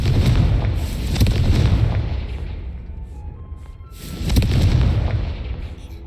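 Two loud booming explosions from the Confringo spell in the video game Hogwarts Legacy, each a heavy rumbling blast that decays over a second or two, separated by a brief quieter gap.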